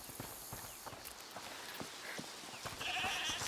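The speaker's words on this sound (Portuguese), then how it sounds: "Ai, estou a ouvir uma cabra." A goat bleating in the video game A Plague Tale: Requiem, a short nasal cry near the end over quiet game ambience with soft hoof-like knocks and clicks.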